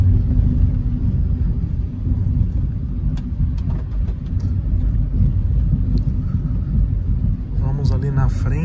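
Steady low road rumble from inside a moving Hyundai HB20 1.6 automatic, with a constant engine and tire drone; a voice briefly speaks near the end.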